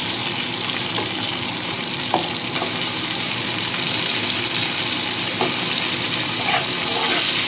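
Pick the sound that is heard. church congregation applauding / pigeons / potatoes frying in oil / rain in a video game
potatoes frying in oil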